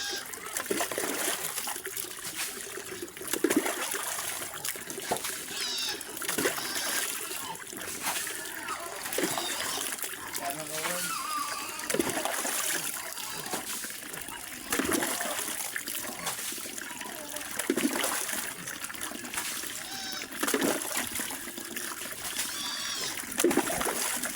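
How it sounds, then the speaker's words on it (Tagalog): Water splashes and splatters repeatedly as piglets are bathed, in irregular bursts over a steady wet background, with voices talking now and then underneath. "Palikuan muna natin mga kababoy."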